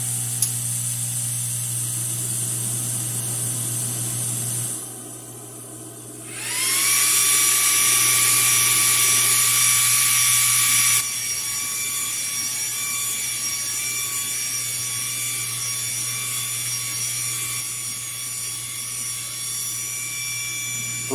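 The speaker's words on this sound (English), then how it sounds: "I'm going to turn on the air assist and the exhaust fan" A laser engraver's steady machine hum and airy air-assist and exhaust fan noise run throughout, joined partway by a high, piercing whine that holds for several seconds before easing to a constant drone while marking a cotton T-shirt.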